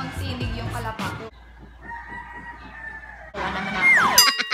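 A rooster crows loudly near the end, its call sliding downward, after a stretch of mixed background noise and quieter ambience.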